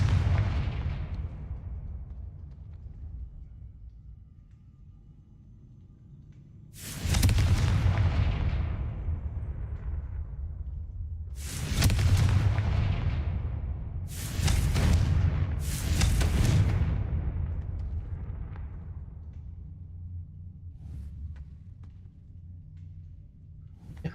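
Confringo fire spells explode in the Hogwarts Legacy video game: four heavy booming blasts with long rumbling decays, the first alone and the last three closer together, over a low ambient drone.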